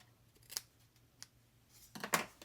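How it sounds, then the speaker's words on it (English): Scissors trimming paper card pieces for a handmade Christmas card with a bow die, a few crisp snips spaced apart, close and quiet, ending in a quicker cluster of cuts. "cut the remaining pieces, or the stuff that's hanging out"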